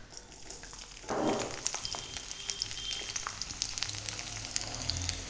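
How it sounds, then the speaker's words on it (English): Roughly chopped garlic, about half a cup, hits well-heated oil with a sudden loud sizzle, then settles into a continuous close frying crackle that holds steady to the end. "So the oil has started to heat up really well. I'm going to add in the garlic to it."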